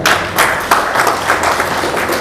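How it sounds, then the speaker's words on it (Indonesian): An audience applauds at a gathering of village heads, a dense patter of many hands clapping with pulsing swells, close and loud, with no talking over it. "Tepuk tangan juga untuk BIG ini, ya."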